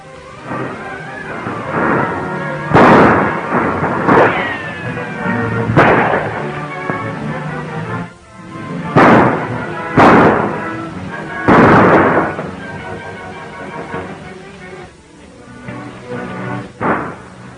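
Gunfire in a 1936 western shootout, with loud booming shots spaced a second or two apart that echo out across the scene until the guns run out of cartridges, and a few voices between them.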